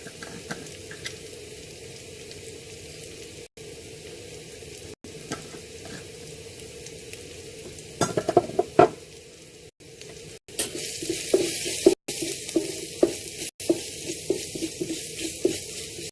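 Kashmiri chilli powder and turmeric sizzle in hot oil in a pan, a quiet steady hiss that grows busier and crackles more in the second half, with a few scrapes of stirring and brief dropouts.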